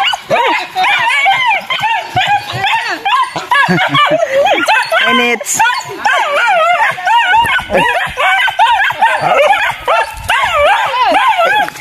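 Several dogs bark, yip and whimper excitedly at close range, almost without pause, while people talk over the commotion.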